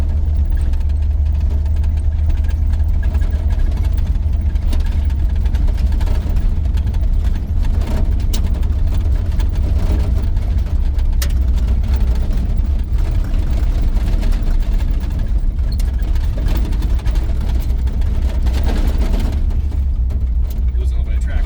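An old farm truck's engine drones steadily and loudly from inside the cab as it drives on narrow, rough turns through trees, a constant low rumble with rattles, while people talk over it.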